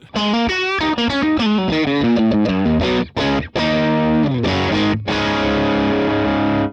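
Bright, slightly gritty electric guitar through a Vox AC30 amp with a crunchy, biting edge, playing a quick melodic run and then ringing chords, loud and close.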